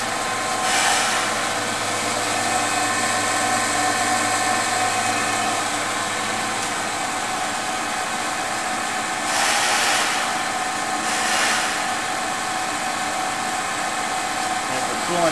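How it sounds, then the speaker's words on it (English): The grinding spindle of a Seest MC 62 crankshaft grinder runs with a steady, loud mechanical whir, a constant drone that carries on without a break. "Grinding spindle."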